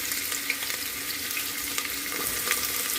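Onions dropped into hot oil with frying spices while cooking a prawn biryani, giving a steady, close, broadband sizzle with small crackling pops throughout and no talk.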